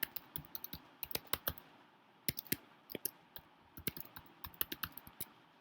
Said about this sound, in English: Once you type your user ID and password, click on sign in button.